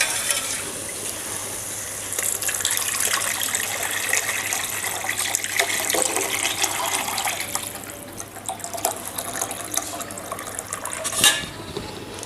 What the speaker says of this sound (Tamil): இப்போ வந்துட்டு நம்ம கரைச்சி வச்சுருக்க புளி இதில் சேர்த்துடலாம்.